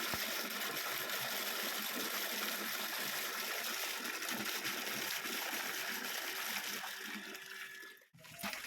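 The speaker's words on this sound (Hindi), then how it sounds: "और यहाँ नहाने के लिए पानी भर रहे हैं हम।" Water gushes steadily into a container being filled for bathing, a continuous splashing stream close by that cuts off near the end.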